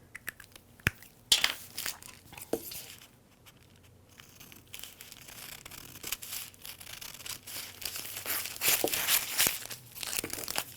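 Crisp crunching and snipping of scissors through layered fabric pinned to a paper pattern, with irregular cuts and rustling, close by and fairly quiet.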